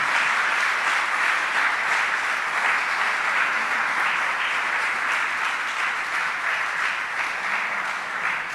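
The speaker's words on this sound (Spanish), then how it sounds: "Le da un fuerte aplauso al Señor por eso." A church congregation applauds together in a strong, sustained burst of clapping that stays steady and dense for several seconds, filling the space without any talking over it.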